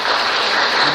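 Audience at a Catholic parish Advent lecture in a church hall clapping steadily in thanks to a guest speaker, a dense, even burst of applause filling the whole second with no talk over it.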